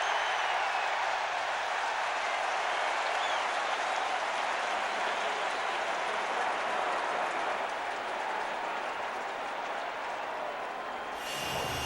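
Steady roar of a stadium crowd at an NFL football game in the RCA Dome, Patriots at Colts in 2003, loud and sustained throughout before dropping off sharply at the very end.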